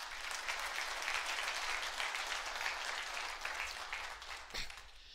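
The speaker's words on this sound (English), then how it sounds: "So let's kind of give them a quick round of applause." Applause for the partners and business team at a management accountants' business event: a full room clapping steadily and loudly for about five seconds, with no talking over it.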